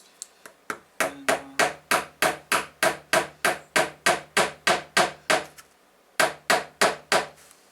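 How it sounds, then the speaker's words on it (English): Someone hammers a 3D printed prop popper tool into place with a fast, even run of sharp hard knocks. After a brief pause the blows resume, loud and close, with no talking. "hammer the thing in."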